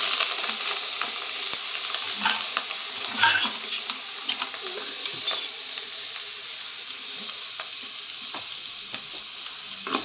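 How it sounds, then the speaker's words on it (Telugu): About 50 grams of paneer fry in a pan over a high flame, crackling and sizzling steadily. Occasional clinks and scrapes of a utensil stirring against the pan break through. "ముందుగా పన్నీర్ని కొంత 50 గ్రాములు తీసుకొని దాన్ని అలా వేసేసి వెరీ లో ఫ్లేమ్"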